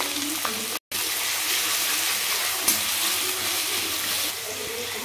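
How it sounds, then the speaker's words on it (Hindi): Sliced onions dropped into hot oil in a kadhai with bay leaf and dried red chillies, giving a loud, steady hiss and sizzle that runs almost without pause, broken once by a brief cut. "अब मैं इसमें प्याज ऐड कर दे रही हूँ।"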